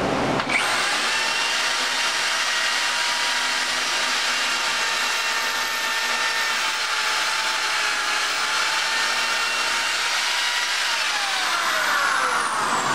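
A rotary hammer drills holes into blocks while a bedroom wall is prepared for insulation, giving a loud, steady, continuous whine and rattle that starts abruptly and runs nearly unbroken for about twelve seconds, with no talking.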